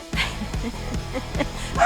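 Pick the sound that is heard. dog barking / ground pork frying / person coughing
dog barking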